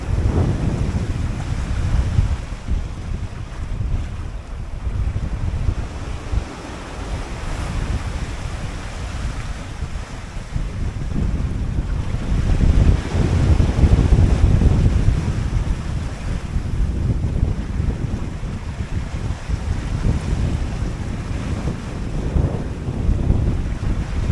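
Strong wind and big ocean waves hit a 21-foot junk rig sailboat at sea, a loud, constant rush of wind buffeting the microphone over surging, sloshing water that swells and eases.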